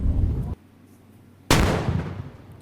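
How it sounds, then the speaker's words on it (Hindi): A cannon salute fires in the Indian Bike Driving 3D video game: a loud booming blast, a short quiet gap, then a second sharp boom that rings out and slowly decays. "ये मैं थोड़ा तोपों की सलामी दे दूं अपने देश को"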